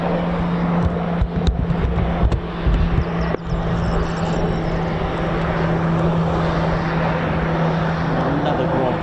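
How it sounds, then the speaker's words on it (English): An RAF Grob training aircraft taxis out at an airfield, a steady engine drone with a low sustained hum running throughout, loud and near, with a few brief bumps and clicks early on. "Another grog just taxiing out now."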